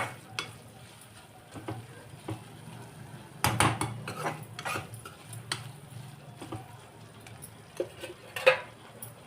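Tomatoes and spices for mushroom biryani being sautéed in a pan, with a soft continuous sizzle broken by scattered clinks and scrapes of a spoon stirring against the metal.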